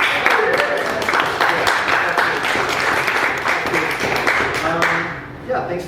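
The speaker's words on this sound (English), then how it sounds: "Maybe an applause for that." An audience at a poetry lab event claps, dense, close applause with distinct individual claps, and a few voices murmur underneath before it tapers off at the end.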